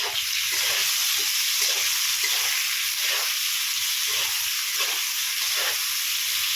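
Frying food in a pan with turmeric and salt being stirred in, a steady bright hissing sizzle pulsing in a regular rhythm of stirring strokes, close and continuous, with no voices.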